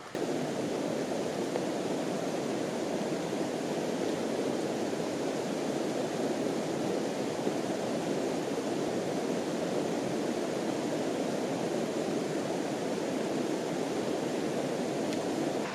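A mountain stream on Mt. Antero in Colorado rushes steadily at a creek crossing, a dense, even broadband roar that holds close and constant throughout with no voices.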